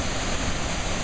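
The waterfall in Vintgar Gorge, Slovenia, rushes as a dense, steady broadband roar, fairly loud and unbroken, with no voices over it.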